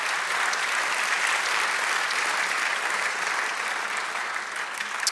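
A church congregation bursts into sustained, dense applause, an even wash of clapping that holds steady throughout with no talk over it.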